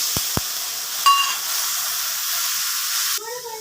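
Water poured into Bengali spice tempering for potol chingri, salt and turmeric in hot oil, sets off a loud steady sizzle and hiss in the pan, with a few soft knocks early and the frying sputter changing near the end.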